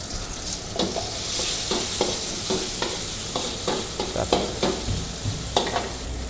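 Hed thob mushrooms stir-fry in a hot pan, with a constant sizzle and a quick, regular scrape of a spatula stirring and tossing them, close and loud, and no voices.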